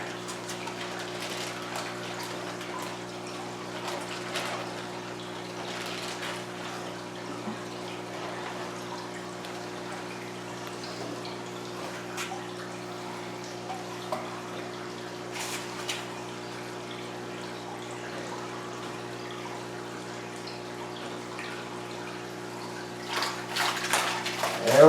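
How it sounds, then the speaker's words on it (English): Water sloshing and pouring as a bag is filled from a small fish tank to scoop up a fish, steady low watery wash over constant pump hum, with a louder splash at the very end. "Okay, now I just need to get a bag of water for him and scoop him up"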